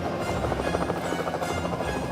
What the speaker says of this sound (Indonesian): Wow, aku suka menjadi helikopter.